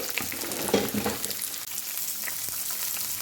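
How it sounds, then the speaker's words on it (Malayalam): Shallots, garlic and crushed chillies with a little turmeric sizzling and frying in a pan, a steady close crackle with some stirring, no speech. "ചെറിയ ഉള്ളി വെളുത്തുള്ളി ഇടാം, കാന്താരി മുളക് ചതച്ചത്, ഒരല്പം മഞ്ഞൾപ്പൊടി ഇടാം,"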